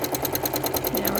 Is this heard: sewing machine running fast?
yes